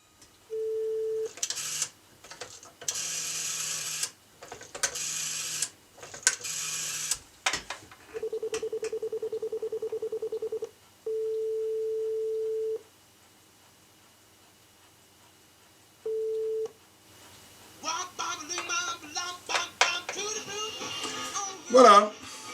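A telephone jukebox keyed by birth year sounds a series of sharp dialing tones, then long steady beeps with pauses, followed by an old 1950s song playing tinnily through the handset line.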